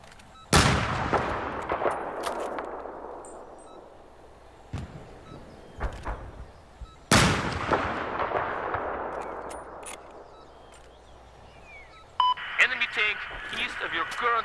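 Gunfire in Battlefield 4 bursts out twice as loud, booming sniper-type shots with long ringing decays, joined by scattered fainter pops and a brief rattling volley at the end.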